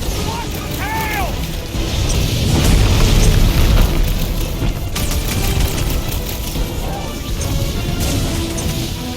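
Explosions and fire in the Guardians of the Galaxy video game: loud booms, crashes and crackling blasts over busy combat noise, with brief characters' voices mixed in.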